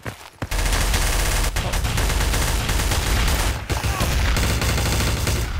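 Sustained, loud automatic gunfire fills a Trouble in Terrorist Town round, running nearly unbroken after a short pause at the start.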